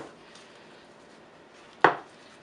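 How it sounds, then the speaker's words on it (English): Knife cutting through a fried bacon, egg and cheese breakfast empanada, a single crisp crunch of the blade breaking the pastry crust against a board near the end of an otherwise quiet stretch. "I'm going to cut it so you guys can see the inside."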